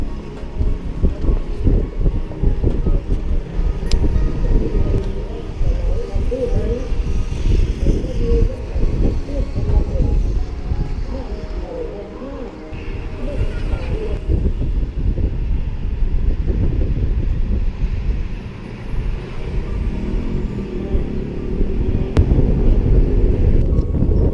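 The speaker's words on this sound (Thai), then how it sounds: "โอ้ลมเย็นดีจริงเลยครับ" Cool wind blowing across a hilltop temple at Khao Kaeo, Lopburi, a loud continuous rumbling buffet of wind on the microphone that surges and eases throughout.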